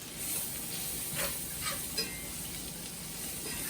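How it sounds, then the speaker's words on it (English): Flour whisked into melted butter in a pan to form a paste, a steady soft sizzle with faint scraping strokes of the whisk, quiet and close, without talk. "we're supposed to whisk this until it sort of forms a paste"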